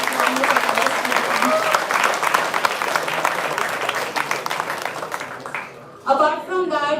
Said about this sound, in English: So please give it a round of applause.